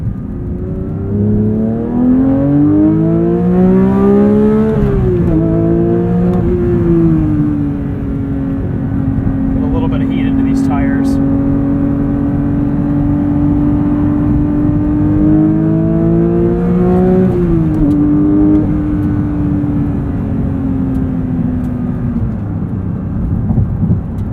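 A 2022 Porsche 911 GT3 with a manual gearbox, in sport mode, revs up and down through gear changes, a deep rising and falling roar, steady and loud throughout.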